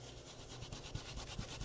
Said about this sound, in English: I'm rubbing pretty hard so that it'll go through that stencil.